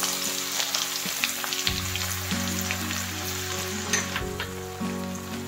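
Crushed garlic sizzling and frying in hot mustard oil after cumin, a steady close crackling hiss with low hum underneath and no talking.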